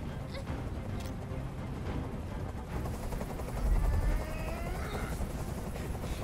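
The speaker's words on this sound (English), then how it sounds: "I can't stand that noise anymore. Tell that helicopter to get out of here." A video game helicopter's steady rotor thrum drones continuously, mixed with sharp bursts of gunfire and a low rumbling swell partway through.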